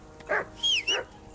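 A dog barking in the medieval video game Kingdom Come: Deliverance 2, two or three loud close barks with a whining, yelping edge in quick succession.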